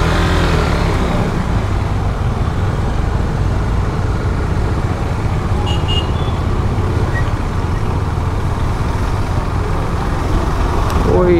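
Dense road traffic surrounds a moving motorbike, a constant loud rumble of engines and wind with occasional horn-like tones, while someone talks over it.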